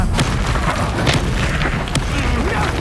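Bombarda explosion spells go off in Hogwarts Legacy, heavy booming blasts rumbling loudly over continuous low combat noise, with a few sharper bursts punching through.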